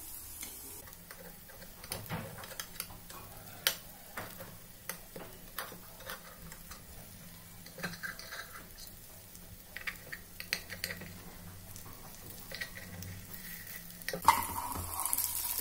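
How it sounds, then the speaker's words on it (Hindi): Appe made from leftover idli and dosa batter are turned over in an appe pan, with light clicks and scrapes of a utensil against metal over a faint, steady frying sizzle. "अब हम ये अप्पे को हम पलट देंगे, जिससे कि ये दूसरी तरफ से भी सिक जाए।"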